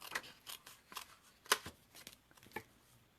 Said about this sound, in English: I'm just going to cut it out first so I don't waste the paper